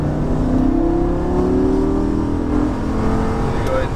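A Lamborghini Gallardo LP550 engine pulls hard out of a corner on a race track, a loud continuous drone with rising pitch as it accelerates.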